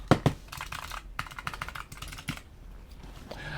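Clicky keys on a ROTTAY wireless 10-key numeric keypad are pressed in quick, uneven bursts, close and crisp, with a couple of louder clacks near the start and brief pauses between runs.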